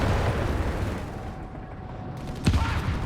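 In Company of Heroes 3, a mine detonates under a Stuka amid ongoing battle noise, a sharp burst rising over a rumbling backdrop of distant gunfire late in the moment.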